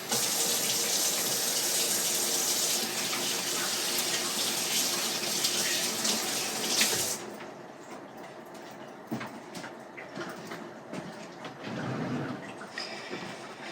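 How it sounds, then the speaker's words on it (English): Hands are washed under a running kitchen faucet: a loud steady gush of tap water for several seconds, then the water stops and softer splashes and handling noises follow. "Let's wash our hands here."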